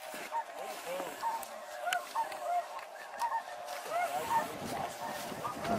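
Snow geese honk repeatedly over decoys on a November hunt, a busy overlapping chorus of mid-distance calls with wind and low background noise throughout.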